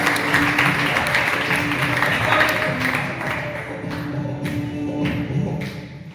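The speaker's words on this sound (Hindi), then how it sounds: "एक बार फिर से जोरदार ताली, जोरदार ताली।" Audience applause at a sales seminar: sustained, steady clapping of moderate loudness with crowd murmur underneath, a few sharper claps standing out toward the end.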